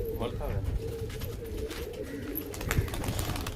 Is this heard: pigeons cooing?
yes